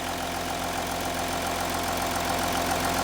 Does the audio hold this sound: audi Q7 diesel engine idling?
yes